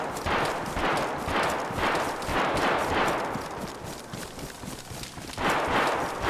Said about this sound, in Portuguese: Caramba, eles estão atirando em mim